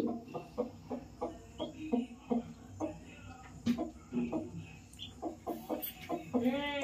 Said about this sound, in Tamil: பாரு கோழி குஞ்சு